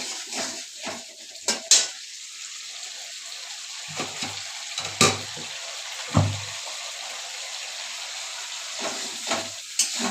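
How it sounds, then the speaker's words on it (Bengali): Spices, turmeric and tomato sauté in a pan for a Bengali rohu fish curry, with a steady soft sizzle under repeated sharp clinks and scrapes of a metal spoon stirring against the pan, close and without talk. "ভালোভাবে মশলাটা কষিয়ে নেব।"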